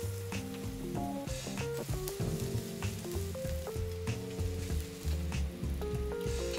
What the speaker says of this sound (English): So I am sauteing today with clarified butter.